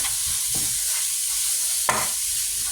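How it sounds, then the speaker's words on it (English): Homemade Hamburger Helper with browning meat gets mixed in a pan with a wooden spoon, several scraping strokes over a constant sizzle, close and fairly loud with no talking. "you're going to take a wooden spoon or a spatula or something. And you're going to mix this all together"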